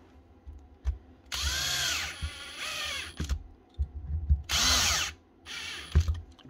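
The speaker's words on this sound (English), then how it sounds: "Dewalt 24 volt NiCad SDS drill, which was a great machine with terrible batteries" A Dewalt cordless SDS drill runs in short bursts, revving up and winding down three times with pauses between, fairly close and loud, with small clicks and handling noises in the gaps.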